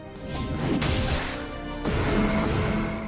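A shattering smash effect from the video game Castlevania: Lament of Innocence, with two loud crashing bursts over a dense, busy game soundtrack.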